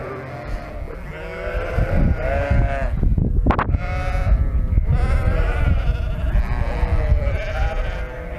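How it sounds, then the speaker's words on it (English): A flock of sheep bleats wildly and loudly before being fed corn, with many overlapping close calls merging into a constant, clamorous chorus and no speech heard. "you're hearing the sheep get kind of wild right now, and that's because they're about to get corn"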